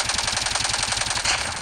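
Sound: gunfire in Call of Duty Mobile video game

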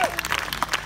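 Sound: audience applause for a jazz band

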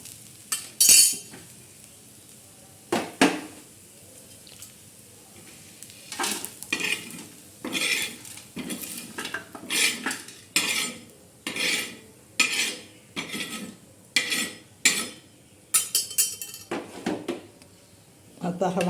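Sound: black masala spice mix being roasted and stirred in a pan

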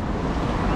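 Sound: wind at rocky beach in Lima, Peru

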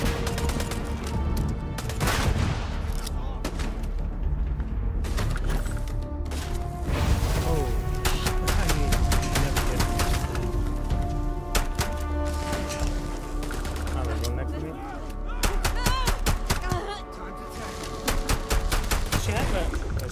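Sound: gunfire in the video game Starfield

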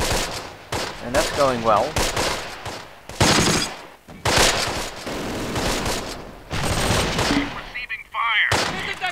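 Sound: gunfire in video game Close Combat: Last Stand Arnhem

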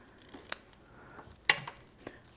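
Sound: scissors cutting paper ribbon at an angle

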